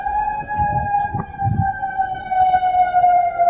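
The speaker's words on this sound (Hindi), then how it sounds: "सायरन बज रहा है" An air raid siren wails over Qatar, a steady sustained tone with harmonics that holds loud and continuous throughout, slowly shifting pitch, with faint low rumble beneath and no talking.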